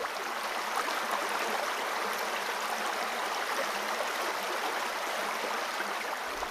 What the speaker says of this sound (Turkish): Karlı dağlar ve yaylalardan koşarak akan sular, belde sınırının başladığı yer olan Pangar Şelalesi'nde hoş geldin dercesine karşılıyor bizi.